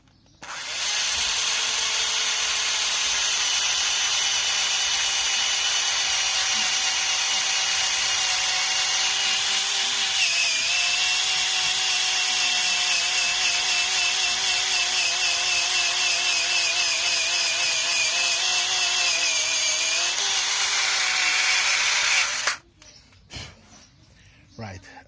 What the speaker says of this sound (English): you just insert the drill into the position where the cut should be,